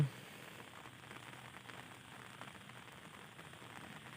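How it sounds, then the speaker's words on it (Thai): Soft, steady rain patter hisses evenly throughout, faint and continuous with scattered light drops and no voices. "ได้ยินเสียงฝนตกไหมครับ"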